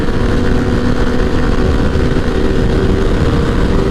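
A motorcycle rides along a road on the way to a bike night in Cleveland, its engine giving a steady, loud, close drone that holds without a break.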